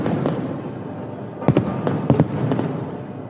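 Fireworks burst over the Sant'Agata procession in Piazza Duomo, Sicily, in 2024: several sharp bangs land in quick pairs and singles over a steady wash of crowd noise.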